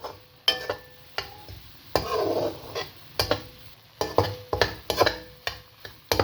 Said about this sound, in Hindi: 3-4 मिनट हम इसको फ्राई करेंगे ताकि सूजी का जो कच्चापन है वो दूर हो जाए